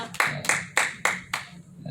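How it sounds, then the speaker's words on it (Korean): A church congregation claps together in five sharp, evenly spaced beats, close and crisp, with a faint murmur beneath. "우리 박수 한번 합시다"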